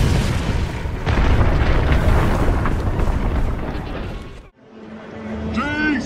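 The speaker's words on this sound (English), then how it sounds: "By shooting at the C4 explosives Jason had set up with the gun Batman refused to use." C4 explosives detonating in the animated Batman: Under the Red Hood, a loud sustained roaring blast with rumbling debris that cuts off abruptly, followed by a brief quieter passage with a rising tone.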